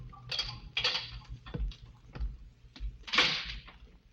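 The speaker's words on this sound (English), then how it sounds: "Then footsteps sound in the corridor. The door opens." Radio drama effects give footsteps in a corridor and a door opening, a few separate thuds and clicks followed by a louder creak near the end, close and alone without talking.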